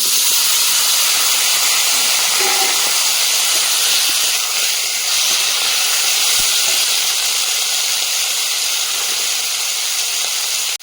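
Whole cumin and chopped vegetables sizzling in hot oil with onion, a loud, steady hissing sizzle that continues unbroken for about eleven seconds, close up with no talk.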